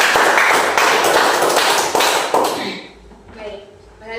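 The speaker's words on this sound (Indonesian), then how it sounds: "kita berikan aplaus dulu untuk Mei" Classroom applause for a student's presentation, a dense burst of many clapping hands that swells and then tapers off, followed by quiet room sound.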